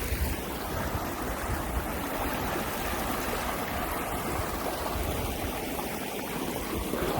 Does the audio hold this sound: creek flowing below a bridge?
yes